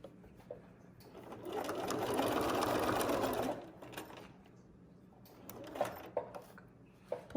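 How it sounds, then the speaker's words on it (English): A sewing machine stitches along a T-shirt edge, a close, steady whirring run of a couple of seconds, followed by quieter handling clicks and knocks as the fabric is repositioned. "this gets easier and easier to turn and stitch and turn and stitch"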